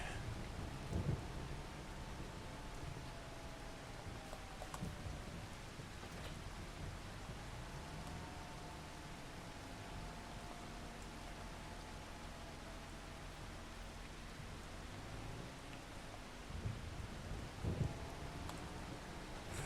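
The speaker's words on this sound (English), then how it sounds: "And I hear the thunder." Steady rain hiss with low rumbling thunder rolling through a farming video game scene, a few sharper cracks standing out, over a constant background drone and faint tonal hum, no talking.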